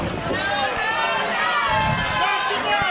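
Arena crowd at a wrestling show roaring and cheering in a steady wash of noise, with chatter and an announcer's voice running over it.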